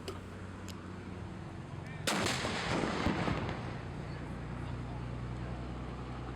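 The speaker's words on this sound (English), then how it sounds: "We fired off our 1918 French Mademoiselle cannon." A single booming shot from a 1918 French field cannon goes off suddenly, followed by a long rumbling echo that rolls away outdoors.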